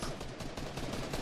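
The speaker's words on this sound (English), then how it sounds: "it's already a lot of gunfire" Rapid, dense gunfire in the video game Fortnite, a quick burst of overlapping shots in a brief, continuous stretch.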